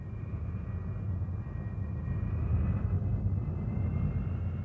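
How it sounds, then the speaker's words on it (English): A steady engine drone from a Messerschmitt ME-262 jet fighter in flight, a continuous low rumble with a faint high whine held at a constant moderate level, without talk. "The ME-262 is the world's first fully operational jet fighter aircraft."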